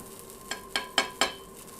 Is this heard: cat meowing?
no